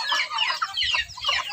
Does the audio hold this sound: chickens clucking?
yes